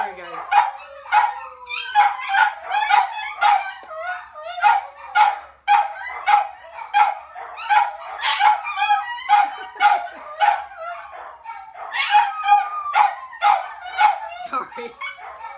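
Several dogs barking and yipping in a rapid, overlapping chorus, close and loud throughout, with some whining and a person speaking briefly over the noise.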